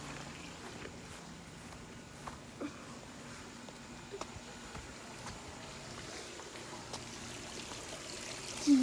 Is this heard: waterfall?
yes